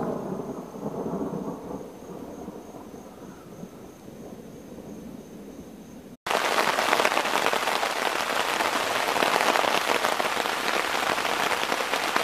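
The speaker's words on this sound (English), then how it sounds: "Well, really hard rain coming down." Hard rain pounds steadily on a tent during a storm at a campground, a dense, loud roar that surges suddenly heavier midway, with thunder rumbling low beneath it.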